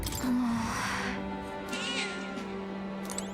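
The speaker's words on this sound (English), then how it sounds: "we actually found the kitty" A cat meows in the video game Metaphor, a single drawn-out call near the start followed by softer trailing sounds over steady game background audio.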